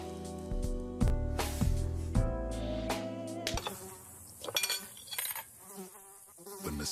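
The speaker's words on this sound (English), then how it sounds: "Mosquitoes show up" Mosquitoes buzz as a sound effect in a Terminix pest control ad, a thin whining hum over bursts of percussive music and rustling, moderately loud and close.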